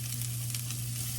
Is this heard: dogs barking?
no